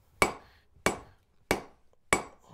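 A hammer strikes hot steel on an anvil while forging chest handles. It gives four loud, ringing metallic blows at a steady, even pace, each one decaying quickly, with quiet between them and no talking.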